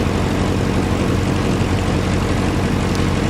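A small propeller airplane's engine runs steadily and loudly at close range on cold-weather ground ahead of departure, a constant droning roar with no talk.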